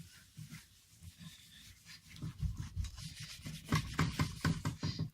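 Foam pad rubbing cream polish over a guitar's clear coat, a soft rhythmic swishing that builds into quicker, louder strokes toward the end, close and without talk.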